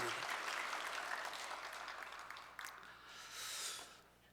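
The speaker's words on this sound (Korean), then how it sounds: "영광 받으신 주님께 감사의 박수 올립시다." A church congregation claps during a Sunday worship service, a sustained wash of applause that gradually thins out, with a brief louder burst near the end, heard at moderate distance in a reverberant hall.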